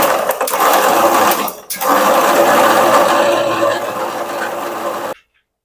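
A mixer grinder blends mango puree with water for Pune-style mango mastani, giving a loud, continuous motor whir that stops briefly, restarts, then cuts off abruptly near the end.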